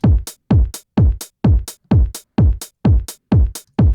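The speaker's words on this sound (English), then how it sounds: "The most classic element is the hi-hat" A kick thumps steadily on each beat with a crisp hi-hat ticking on every offbeat, an even, loud, dry four-count groove.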